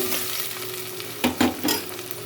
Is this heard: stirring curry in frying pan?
yes